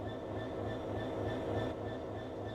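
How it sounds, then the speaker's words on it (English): A BR Class 66 diesel-electric freight locomotive in a train simulator game rumbles with a steady, low engine drone and a faint high tonal whine, quiet and continuous throughout. "This is a BR Class 66 diesel-electric locomotive typically used for freight operations in the United Kingdom."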